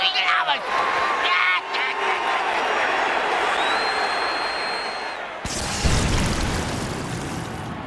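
A stadium crowd cheers in an American football video game during a wildcard Monday Night Football matchup, a sustained wash of roaring noise that thins partway through before a sharp burst of fresh crowd sound.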